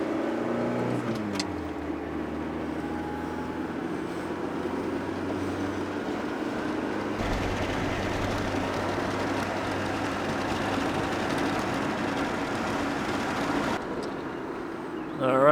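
Ford EF wagon engine droning steadily while driving, with a broad hum of road and cabin noise that lifts partway through and stays constant until the end.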